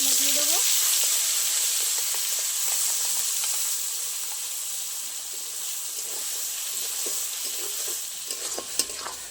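Ground spice paste frying in a pan, a close steady hiss and sizzle with scraping stirring strokes throughout and a brief louder clatter near the end.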